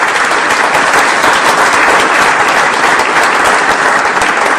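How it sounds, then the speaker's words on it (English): Loud, sustained applause from a large audience at an event on artificial intelligence and ethics, many hands clapping in a thick, even wash with no talking. "If I can give a round of applause,"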